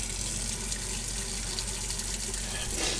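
Cold water gushes steadily from a tap into a sink, a loud continuous rush with no break for its whole length.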